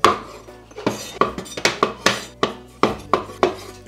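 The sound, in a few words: knife cutting straw mushrooms in half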